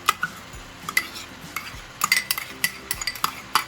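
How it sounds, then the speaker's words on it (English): Chopped onion goes into ground beef cooking in a pan for an American lasagna, with close, clicking scrapes and clinks of a utensil stirring against the pan in an uneven rhythm and a faint sizzle beneath. "we're gonna add 1 small chopped onion to the mix"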